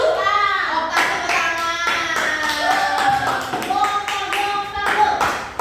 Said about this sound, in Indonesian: Tepuk tangan sudah Kiki.